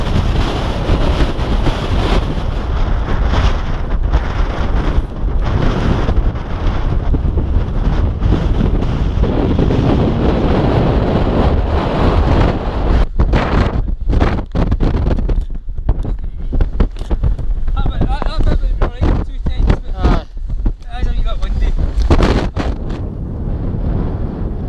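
Strong wind battering a Scottish mountain summit, a loud continuous roar of gusts buffeting the microphone for the whole stretch, with no talking.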